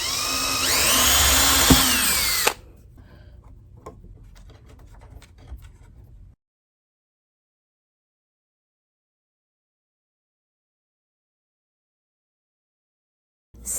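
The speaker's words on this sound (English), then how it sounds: "I'm going to have to drill a new hole over here" A power drill whines loudly for about two seconds while drilling a hole in a wooden buffet cabinet, then stops, followed by a few scattered knocks and scraping sounds before silence.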